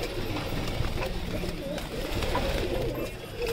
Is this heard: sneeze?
no